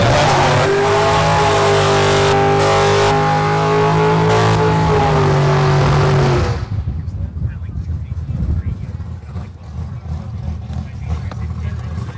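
An 87 race car with a 346 LS1 engine runs at a racing event, holding a loud sustained engine drone that then fades into a rougher, distant rumble.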